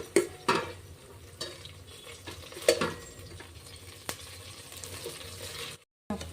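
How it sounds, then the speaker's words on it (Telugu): Onions for egg biryani fry until brown in a pan, stirred in scattered scrapes and taps over a soft continuous sizzle, near but fairly quiet, with a brief dropout near the end. "బాగా వేయించి ఆనియన్స్ అన్నీ బ్రౌన్ కలర్లో వచ్చేలాగా ఫ్రై చేయండి."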